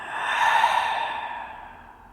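A deep, airy exhale through the body during a vinyasa yoga hip session, one long breathy sigh that swells and fades over about two seconds, close and clear.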